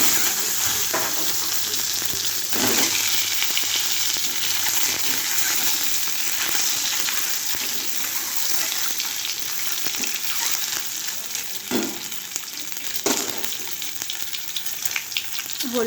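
Eggs sizzling in hot oil in a heated wok, a steady loud fry with occasional sharper crackles and spatters throughout; no talking.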